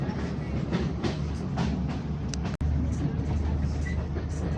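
Train running from Kandy to Nuwara Eliya, rolling with a steady rumble and rhythmic clickety-clack of wheels on rails, heard from inside the carriage with a brief cut midway.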